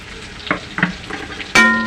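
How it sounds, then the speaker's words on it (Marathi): Garlic, ginger and coriander sautéing in a pan for veg Schezwan fried rice, a soft sizzle with a few scraping stir strokes, ending in a ringing metallic clang of a utensil. "छानपैकी परतून घेऊया"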